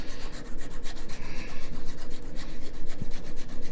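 Steady back-and-forth rubbing smooths the rough groove of a slide rule, a close, continuous rasping scrub with a quick rhythmic pulse and no voices.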